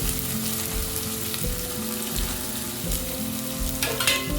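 Radish and onion frying in a pan, sizzling steadily at close range while a utensil stirs and scrapes through them in irregular strokes, with no talk.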